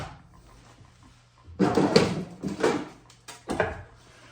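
Metal ash drawer on a wood stove being worked open or shut, giving a few loud close scraping and clunking bursts after a quiet start.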